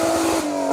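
BMW M3-engined compact rally car sliding sideways on an asphalt rally stage, a brief loud engine howl passing close by.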